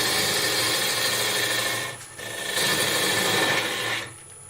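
Wood lathe turning a goblet, a steady broadband whirring and scraping of the tool on spinning wood, dipping briefly near the middle before resuming, then easing off at the end; no voices.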